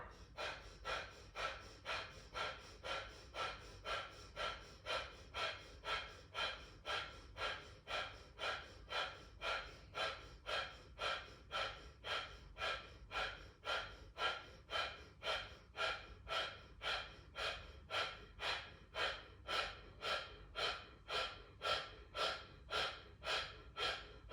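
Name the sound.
deep yoga breathing in and out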